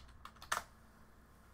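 A short burst of computer keyboard typing as a password is entered at a sudo prompt for a Raspberry Pi shutdown: several quick, close, soft keystrokes ending in one louder key press, then quiet room hiss.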